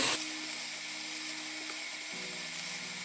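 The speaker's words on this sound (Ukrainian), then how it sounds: "І тепер це все смажимо 3-4 хвилини." Chopped onion and chicken fry in a pan, giving a steady, fairly loud sizzle with a faint mechanical hum underneath that shifts pitch midway, and no voices.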